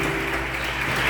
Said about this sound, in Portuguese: vamos aplaudir ao Senhor bem forte, o mais forte que você puder